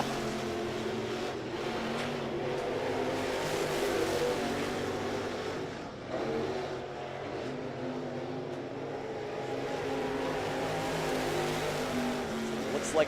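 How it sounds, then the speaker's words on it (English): Crate late model race cars qualifying at Muskingum County Speedway, a steady loud engine roar from cars circling the dirt oval, sustained and somewhat distant with a brief dip midway. "I believe this is going to be our final three cars to qualify"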